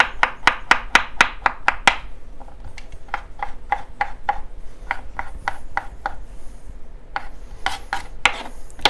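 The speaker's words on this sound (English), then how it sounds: "I'm going to chop these up." Knife chopping ingredients for a crispy chicken salad on a cutting board, a quick run of sharp, close, evenly spaced chops at first, then slower, irregular cuts with brief pauses between them.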